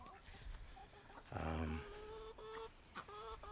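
Backyard hens cluck in short, harmonic calls near the microphone, one louder drawn-out squawk in the middle and scattered smaller clucks around it, with a quiet voice faintly present.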